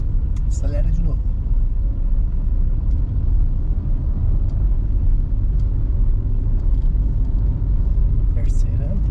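A driving-school car with a learner driver at the wheel accelerates in city traffic; its engine drones as a steady low hum beneath an instructor talking throughout, with a few faint clicks.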